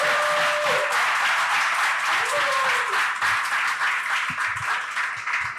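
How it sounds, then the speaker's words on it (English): Crowd applause at a ribbon cutting ceremony, continuous and close, a thick layer of clapping with a few scattered voices and calls blended in. "Please, I want a big round of applause for Edwin Abad."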